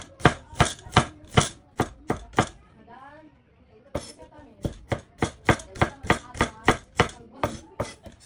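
A knife slices food on a cutting board in quick, regular, close chops. There is a brief pause with faint clatter partway through, then the rhythmic chopping resumes.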